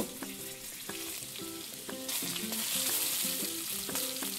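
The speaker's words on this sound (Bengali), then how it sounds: "ফ্রাই প্যানে তেল দিয়ে টুকরো করা আলু দিয়ে দেব।" Potato pieces sizzle in oil in a frying pan, with a melodic tune of plucked notes playing over the frying and the sizzle swelling louder partway through.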